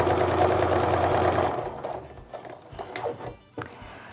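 A sewing machine stitching a quilt seam runs loud and steady for about a second and a half, then stops, leaving faint handling clicks and light rustling of fabric.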